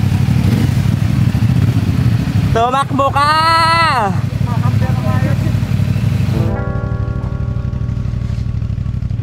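A lowered motorcycle drones steadily up close throughout, its engine humming low and constant. A voice shouts briefly partway through, and then the engine settles into a steadier tone.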